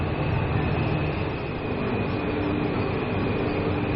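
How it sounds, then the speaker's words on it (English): Taipei metro red line subway train riding along, a steady loud rumble of wheels and motor filling the whole stretch without letup, no voices present. "Pretty scenic way of taking the subway"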